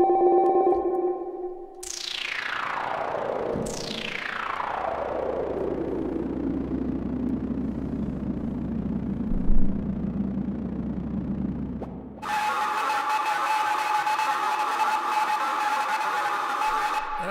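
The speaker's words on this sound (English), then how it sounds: "That's a cool effect, especially with the reverb on and a bit of delay." An RRS Ivoks synthesizer on an iPad, with filter, reverb and delay, plays long downward-sweeping tones that trail off into washy echoes over a low drone, then shifts to a bright, buzzy sustained texture.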